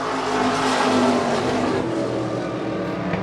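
Modified stock cars roar around an oval track in a steady, loud, continuous engine drone, with several cars blending together and passing close.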